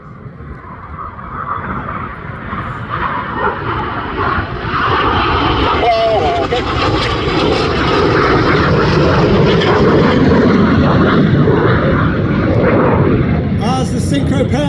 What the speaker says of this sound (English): Each aircraft once again diving down to 300 feet.